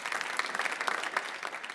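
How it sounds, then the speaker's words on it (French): A church congregation applauds, a brief, even burst of many clapping hands filling the room at moderate loudness. "on acclame Jésus, alléluia"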